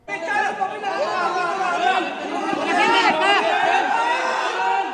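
A dense crowd at an athletes' competition fills the air with loud, steady chatter, many overlapping voices blending into a continuous babble.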